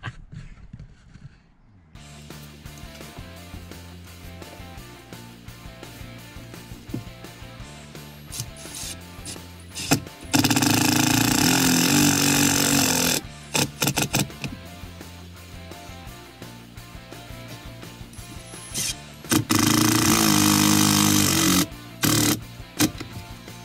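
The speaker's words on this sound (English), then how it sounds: "Right, let's screw it down." Screws being driven to fasten an Adventure Kings Thumper Max air compressor inside an 80 series Landcruiser, with two loud bursts of a power driver spinning among quieter handling and rubbing noises, close by.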